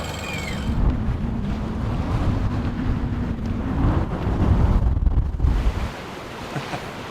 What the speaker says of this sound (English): A little bit too much wind.